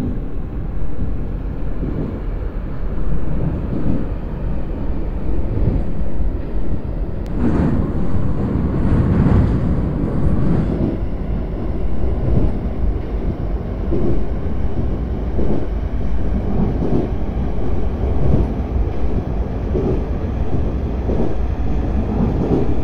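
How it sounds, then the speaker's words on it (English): A JR Narita Line rapid service train runs from Chiba toward Narita Airport in the BVE5 train simulator game, giving a loud, steady rolling rumble with rhythmic wheel thumps and a brief higher whine partway through. "Rapid service train for Narita Airport."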